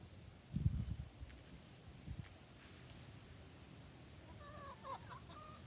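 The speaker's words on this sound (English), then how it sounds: "So this is where chickens live and where they get to eat, and they can lay eggs." Chickens on a farm visited during a children's camp field trip, with a few faint, scattered clucks and rustling over a low, steady outdoor rumble.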